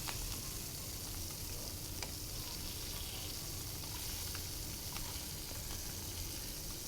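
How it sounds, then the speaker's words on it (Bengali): Puti fish coated with turmeric and salt fries lightly in a pan, giving a dense, even sizzle that holds steady throughout with faint occasional ticks. "হালকা করে ভেজে নেব"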